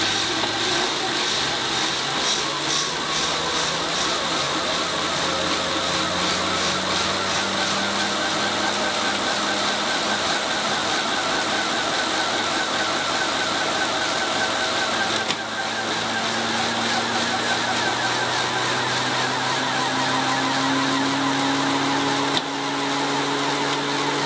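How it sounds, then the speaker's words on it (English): An Elite TUO smart bike trainer running under pedaling, a steady mechanical whir and hum whose pitch slowly rises as speed builds, constant and fairly loud with no talking. "Here's how loud the trainer is."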